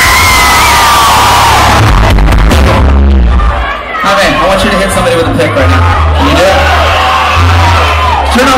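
A live rock concert crowd in Chile roars continuously, loud and close, with whoops, yells and bellowing cheers layered over thumping low-end stage sound throughout.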